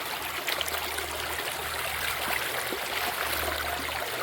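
Water runs steadily through a gold prospecting sluice at a glacial-gold creek in drought-lowered water, a constant close trickling and rushing flow with no voices.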